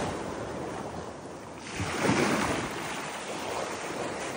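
Sea waves wash onto a beach in a broad, continuous roar with wind buffeting the microphone, swelling into a louder surge midway before settling back to a steady rush.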